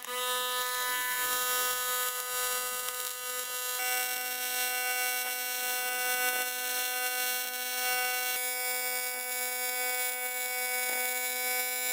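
Steady high-pitched buzzing hum of AC TIG welding on aluminum with a Miller Dynasty 200 set to 250 Hz, continuous and even for the whole stretch, with a slight shift in tone partway through and no talking.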